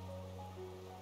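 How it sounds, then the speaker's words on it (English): Rain pours from cracks in the stone above an underground cavern city in Hollow Knight, a faint steady hiss of falling water under sustained tonal background music. "the rain pours down from cracks in the stone above"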